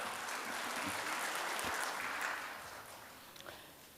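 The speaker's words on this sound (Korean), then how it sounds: "우리 1구역에 이경애 권사님께서 나오실 때 우리 큰 박수로 단으로 모시겠습니다." A church congregation at a Sunday worship service claps as someone is welcomed to the stage, steady applause that is faint and distant, swelling then tapering off after a few seconds.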